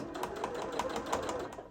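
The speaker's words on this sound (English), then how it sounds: "That's the sound of the needle hitting something it's not supposed to be hitting" A sewing machine needle striking something it shouldn't and bending while stitching through a gift bag, heard as a fast steady run of close, loud mechanical ticks and clacks.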